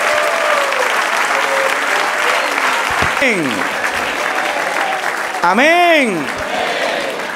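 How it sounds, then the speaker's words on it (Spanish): Congregation applause in a Spanish-language church service, loud continuous clapping from a crowd with voices mixed in and a short spoken word, plus a couple of swooping tonal sweeps near the end. "Denle un aplauso al Señor."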